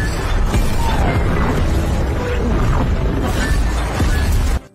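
Anti-aircraft guns and bursting shells in a war film, as German ground troops fire at incoming Russian fighter planes: dense, continuous booming and crackling blasts, loud and close, filling the whole stretch before cutting off abruptly.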